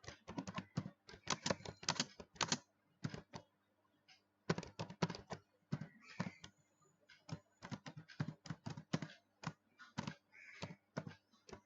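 HTML code typed on a computer keyboard, rapid runs of sharp close key clicks in bursts separated by brief pauses, loud and alone without speech.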